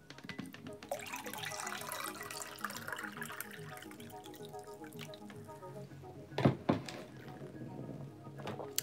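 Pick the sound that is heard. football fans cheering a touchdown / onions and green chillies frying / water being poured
water being poured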